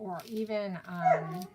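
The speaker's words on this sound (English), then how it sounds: "I'm sorry if you guys hear my dog in the background." A pet dog gives short whining yips in the background of an indoor room while someone speaks over it.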